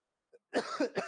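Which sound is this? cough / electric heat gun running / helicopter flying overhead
cough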